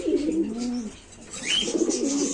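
Homing pigeons coo close by in a pigeon loft, two low throaty rolling calls filling the clip, with faint bird chirps in the background.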